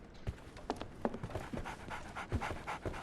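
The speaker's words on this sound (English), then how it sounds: "So, Barnes has a dog now." A dog in the Sherlock Holmes: The Awakened video game pants steadily and rapidly, close and clear, with quick rhythmic breaths and a few soft thuds.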